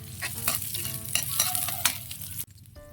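Onion sautéing in hot cooking oil while sinigang na hipon is being started, a steady sizzle with stirring scrapes throughout, close and fairly loud, then a sudden drop near the end.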